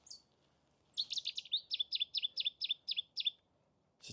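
A Cetti's warbler sings at Rainham Marshes in April, one loud explosive burst of about ten rapid, evenly spaced, sharp chirping notes, close and clear over a faint background.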